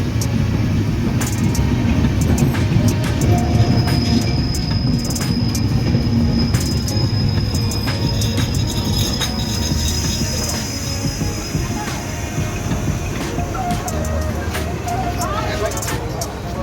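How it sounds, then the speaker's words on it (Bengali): The 758 Down Drutojan Express from Panchagarh to Dhaka rolls into Birampur station on line 2, a loud close rumble of wheels and carriages with a long high wheel squeal and clattering, amid voices on the platform. "২ নম্বর লাইন দিয়ে প্রবেশ করছে পঞ্চগড় থেকে ছেড়ে আসা ঢাকাগামী ৭৫৮ ডাউন দ্রুতযান এক্সপ্রেস"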